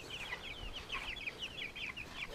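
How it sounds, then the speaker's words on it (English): Chickens in a coop cluck in quick repeated bursts, fairly close and steady throughout, over a soft background hiss with no talking. "Got all our chickens in there."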